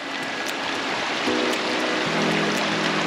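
Creek water running steadily at a dog-friendly creekside swimming spot at Crystal Creek near Townsville, North Queensland, a continuous close rushing wash with faint trickles and no talking.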